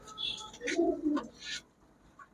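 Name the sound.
pigeons cooing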